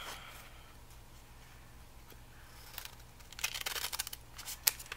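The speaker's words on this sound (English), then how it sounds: "Okay, see, I cut the bag on that one." Scissors snip through a paper bag being made into a clutch, the blades giving a run of crisp, close cuts that build in the last couple of seconds over a faint background hum.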